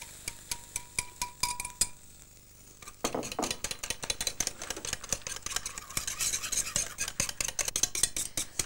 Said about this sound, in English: Put the custard back in the saucepan and then whisk it until it's thickened.